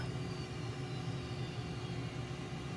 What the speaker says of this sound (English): we could see another plane here taxiing for their takeoff